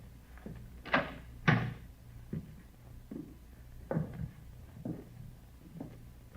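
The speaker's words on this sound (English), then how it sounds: "Better try the door, huh?" Door handled in a radio drama, a series of sharp knocks, rattles and latch clunks spaced irregularly and close up, ending with the door being opened, with no voices over them.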